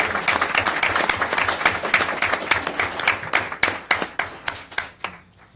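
Applause from the audience at a city council meeting, a dense burst of many clapping hands that swells briefly and then thins out toward the end with a few last claps.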